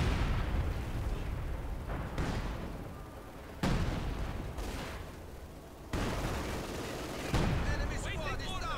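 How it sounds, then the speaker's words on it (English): Repeated heavy artillery booms from Company of Heroes 2 battle gameplay, several loud broadband blasts spaced a couple of seconds apart over continuous rumbling war noise, with a voice speaking in the mix. "Artillery."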